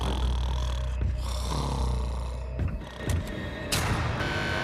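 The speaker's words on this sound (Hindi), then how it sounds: "वो स्टूपिड कॉप सारी रात खर्राटे मारता रहा।" A man snores loudly at night close by, with a heavy rasping rhythm and a few sharp snorts and breathy gasps between the drawn-out rumbling breaths.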